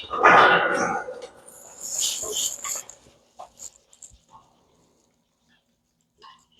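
A dog whimpers and yips in short high bursts, then a few faint scattered sounds and light handling noise follow, with a sharp click at the end.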